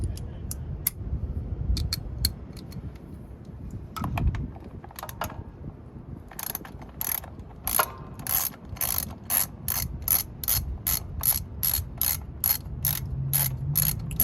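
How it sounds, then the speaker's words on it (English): A socket wrench with an 8mm socket and extension ratchets out inset bolts on a Suzuki DR650 motorcycle during a chain and sprocket job, quick bursts of sharp close clicking with pauses between, faint talk at times. "I'm going to use an 8mm socket, an extension just because these are kind of inset a little bit, and a socket wrench"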